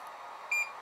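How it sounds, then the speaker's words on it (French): A single short, high electronic beep from a TwoTrees TTC 450 CNC machine sounds against a soft hiss, brief and fairly clear. "la coupure du bip très désagréable qu'on a entendu tout de suite"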